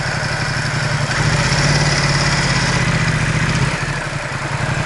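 A Ducati XDiavel S motorcycle engine idles steadily up close, a low rumbling throb that holds even with a slight rise in the middle, with no talking.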